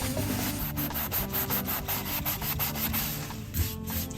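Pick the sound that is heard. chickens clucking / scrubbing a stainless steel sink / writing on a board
scrubbing a stainless steel sink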